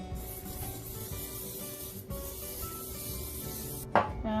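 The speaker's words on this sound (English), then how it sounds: "We're just going to spray and grease" A short hiss of cooking spray coats a barbecue-safe rack beside a Pit Boss 700FB wood pellet grill, soft and close, ending in a brief louder spritz.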